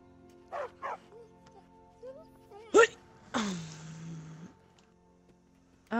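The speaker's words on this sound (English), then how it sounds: "Stray dog." A stray dog in the video game Skyrim gives a pair of short yips, then a sharp bark and a longer whimpering whine, fairly close over a low game background with a voice murmuring.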